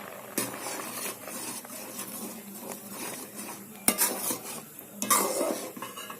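Curdling milk being stirred in a pan on the stove while making milk cake (kalakand), a utensil scraping and clinking against the metal steadily and close by, with a faint sizzle and no talking.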